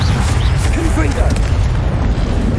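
A Confringo blasting spell explodes in Hogwarts Legacy combat, giving a loud, heavy rumbling boom that sustains throughout, with faint tonal game effects layered over the low roar.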